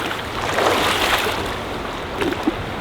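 River water rushes around the legs of hikers wading upstream over rocks and debris in Zion National Park. The broadband wash is steady and close, with soft swells and a few small splashes and no talking.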